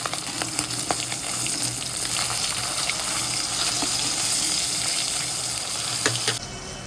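Rohu fish frying in oil, a close, steady crackling sizzle with scattered sharp pops throughout, cutting off at the end.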